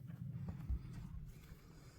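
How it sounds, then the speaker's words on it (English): Horse walking, a few soft, muffled hoof clops at an uneven pace, faint and close against a quiet outdoor background. "Yeah, that's a good horse."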